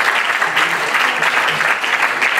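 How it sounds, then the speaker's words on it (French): An awards-ceremony audience applauds a winner from Orange at a digital-industry trophy event, a dense, loud, even wash of clapping from many hands that holds steady throughout. "on applaudit Céline d'Orange"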